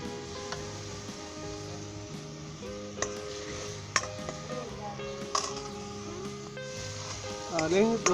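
Garlic and ginger fry in butter in a pan for a butter chicken base, a quiet steady sizzle broken by occasional stirring scrapes and clinks, with a voice speaking over it.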